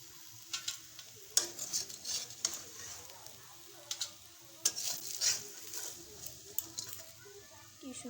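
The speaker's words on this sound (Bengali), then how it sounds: "দেখুন এখানে আমার বড়াগুলো ভাজা হয়ে গেছে সব। আমি এবারে নামিয়ে নেব।" Drumstick-flower fritters frying in oil in a village kitchen, a quiet sizzle broken by sharp clinks and scrapes of stirring as the finished pieces are lifted out.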